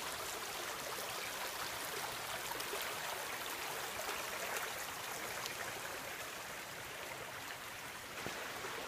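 A river flows under a bridge, a steady, broad rushing wash of water that stays constant and fairly soft throughout, with no voices.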